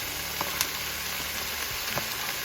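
Defrosted shrimp fry in a pan for long rice noodles with achiote, giving a steady, close sizzle broken by a few faint clicks of stirring.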